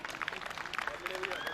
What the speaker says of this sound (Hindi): एक बार अपने सम्मान में आप लोग जोरदार तालियां बजा दें